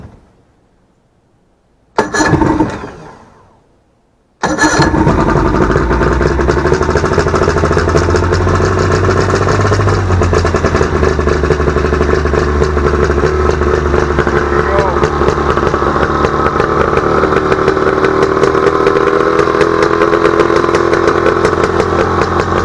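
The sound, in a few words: boat engine starting and running with throttle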